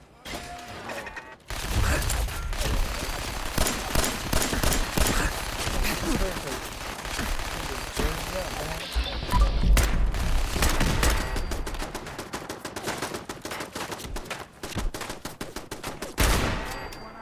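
Gunfire in the video game Fallout 4, dense bursts of rapid shots and crackling impacts with heavy low thuds at times, loud and continuous with someone talking at points.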